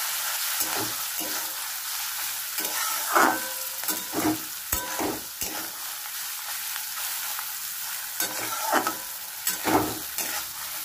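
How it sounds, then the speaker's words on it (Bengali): Grated coconut fries in a pan with a constant close sizzle, while a spatula stirs it and scrapes the pan in irregular bursts, with no voices. "নারকেলটা একটু আমি ভেজে নেবো।"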